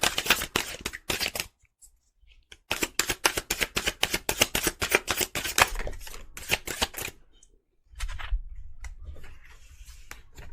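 Tarot cards are shuffled in quick riffling bursts, close and crisp, with a short pause, then a longer run of rapid flicks before a soft low rustle at the end; no one speaks.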